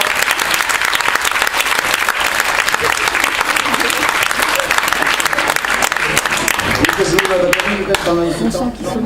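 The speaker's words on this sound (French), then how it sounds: "On applaudit" Sustained audience applause at a cabaret talent show, loud and dense clapping filling the whole stretch, with a few voices rising near the end.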